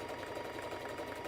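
A brief burst of sewing machine stitching along a dress seam, a quick steady rhythmic whir heard up close, with nobody talking.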